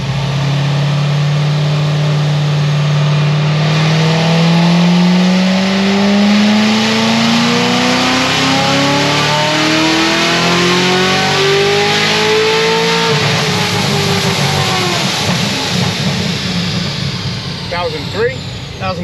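A 1250 hp Corvette C7 Z06 engine pulls hard on a dyno, rising in one long, loud, continuous rev to a howling peak before it backs off and burbles. Voices talk underneath.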